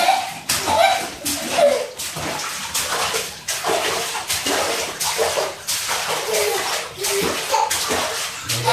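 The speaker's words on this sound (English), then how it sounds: "Lots of splashes." A baby splashes in a bathtub with repeated slapping bursts of water in an uneven rhythm, close and fairly loud, with faint chuckling and voices in the background.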